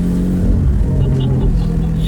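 A sports car engine in sport mode rumbles loudly and steadily up close, its low drone holding without pause throughout.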